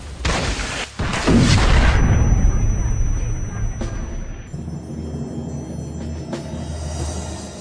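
Loud explosions and booming gunfire in the World War II shooter Brothers in Arms: Hell's Highway, heavy blasts early on that fade into a rumbling, quieter battlefield with occasional sharp reports.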